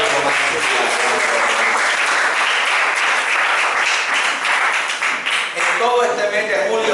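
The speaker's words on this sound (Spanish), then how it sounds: "Denle un aplauso a Dios." Church congregation applauding during a Spanish-language worship service, dense sustained clapping filling the room loudly for several seconds, with voices mixed into the crowd noise.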